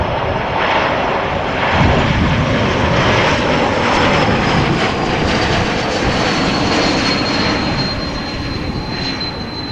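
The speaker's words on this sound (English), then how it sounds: "So this is another E2 Embraer 195 from KLM." A KLM Embraer 195-E2 jet passes near Amsterdam Schiphol Airport, a loud sustained engine roar holding steady for the full stretch with a thin high whine running above it.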